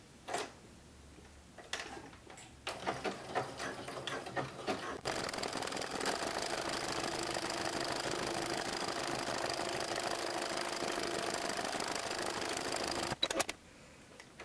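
Sewing machine slowly stitching a decorative fagoted seam that bridges two fabric edges, a steady close mechanical whir running continuously after a few brief starts, with no talking.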